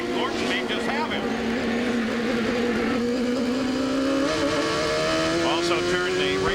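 A 1995 IndyCar race car engine heard onboard Robby Gordon's car at the Cleveland Grand Prix, a loud continuous drone rising steadily in pitch as it accelerates, with commentary talking over it.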